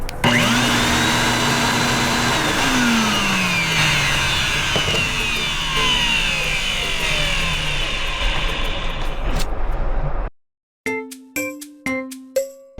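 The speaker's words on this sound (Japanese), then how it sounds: "そしてね、掃除機として使うときはリモコンで。" A workshop dust collector running as a vacuum cleaner roars loudly and close, with whining tones sliding down as it spins down, then cuts out near the end and is followed by several short ringing dings.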